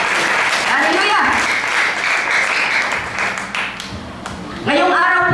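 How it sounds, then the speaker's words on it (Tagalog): Church congregation applauding during a Mother's Day worship service, a dense wash of clapping that fades in the middle and swells again, with a voice speaking over it at times. "At isang mataas na palakpak ulit sa ating Panginoon."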